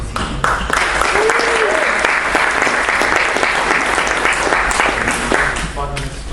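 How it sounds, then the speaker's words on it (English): Loud, dense applause from a conference audience welcoming panel speakers onto the stage at an artificial intelligence industry event, sustained clapping that tapers slightly near the end without any talking. "I ask you to have a round of applause for them"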